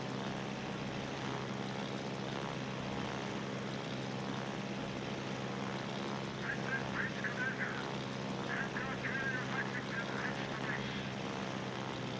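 Steady drone of torpedo bomber aircraft engines in the World of Warships naval combat game, a continuous propeller hum with faint higher whines rising midway, with no talk over it.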